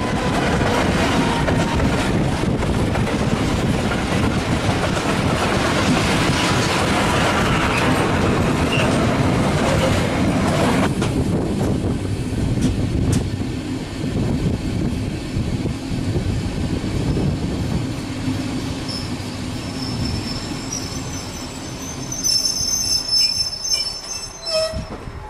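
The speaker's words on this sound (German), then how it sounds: "auf der gerade ein Autozug einfährt" A car-carrying train pulls in on the line toward Westerland by the North Sea, its wheels squealing loudly and continuously on the rails with rumbling and clatter, then the squeal fades into a quieter rolling rumble with brief clicks.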